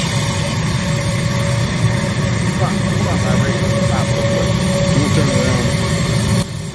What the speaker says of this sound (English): Michigan Air National Guard running fucking A-10s.